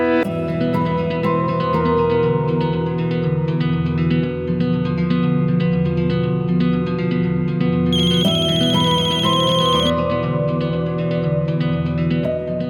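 A phone ringtone plays continuously as a melodic electronic tune, fairly loud and steady, with a brighter high chime pattern breaking in midway.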